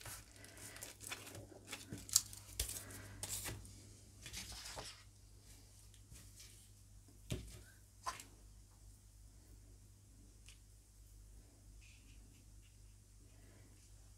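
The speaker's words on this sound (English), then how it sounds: "Let's take this foil again to add in some texture." Aluminium foil crumpled and pressed to add texture for botanical gel printing, heard as close, crackly crinkling and rustling bursts that come and go, louder at the start and then fading into quieter handling noises.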